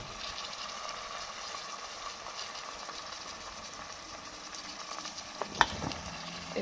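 Green peas go into a frying pan with black pepper, anise seeds and salt and are stirred, producing a continuous soft sizzle with light scraping and one sharp clink near the end, no speech.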